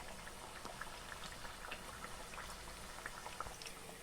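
Ragi flour burelu bubble away in deep oil while being turned, a quiet, steady fizzing with scattered light pops and occasional soft utensil ticks, no voices.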